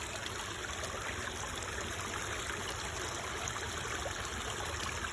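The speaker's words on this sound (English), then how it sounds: "Well, this the waterfall" Floodwater pours over a small waterfall in flooded woods, making a constant, even rushing and trickling that holds steady and fairly soft throughout, with no talking.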